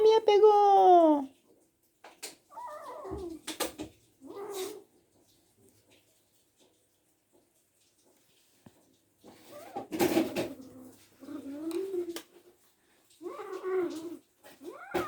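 A cat meows several times in short, rising and falling calls separated by quiet pauses, heard close by in a calm indoor setting.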